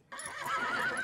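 A stallion from the animated film Spirit: Stallion of the Cimarron lets out a sudden, loud, drawn-out whinny that rises and wavers, close and alone with no speech.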